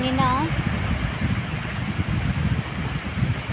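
Continuous rushing wind buffeting the microphone, a steady broad roar with a short whistling tone at the start.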